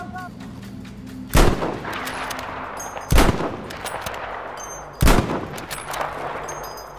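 Rifle fire in Battlefield V rings out as three sharp, loud reports spaced about two seconds apart, each with a short rumbling tail over a steady background hum of battle.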